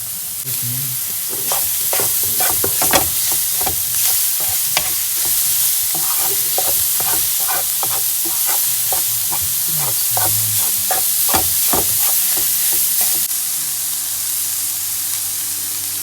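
Partly frozen plant-based minced meat sizzles steadily in a frying pan while a utensil breaks it apart, with repeated scraping and crumbling strokes over a constant close frying hiss; no one speaks.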